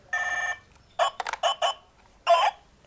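A small landline telephone rings in electronic trills: one half-second ring, then a stuttering cluster of short pulses, then another brief ring, with quiet between them and no talk.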